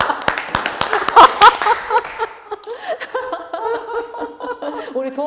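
Scattered hand claps and chuckling from a small audience at a talk between a media artist and a philosophy scholar, sharp claps up front giving way to speech.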